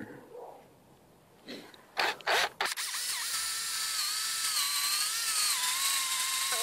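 A drill bores a hole into a birch trunk to tap sap. A few short bursts give way to a sustained, close, high-pitched whine that wavers slightly in pitch.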